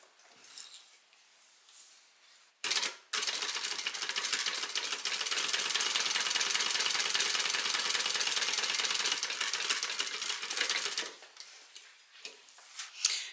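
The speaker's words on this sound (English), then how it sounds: "we're just going to stitch right along the bottom using a 1/8 of an inch seam allowance." A sewing machine stitches along the bottom edge of vinyl with a narrow seam allowance, a loud, close, continuous mechanical whir lasting about eight seconds, set between quieter handling sounds before and after.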